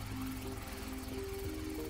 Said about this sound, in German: Da kommt der Helikopter mit unseren Ressourcen.